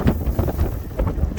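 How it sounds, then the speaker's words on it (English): Gusty wind buffets an outdoor microphone with loud, low rumbling thumps in quick irregular bursts, heard beside a load of harvested barley, with no voices. "Sorry about the wind, but it is windy."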